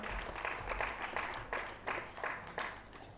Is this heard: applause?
yes